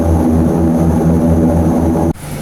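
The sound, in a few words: propeller airplane flight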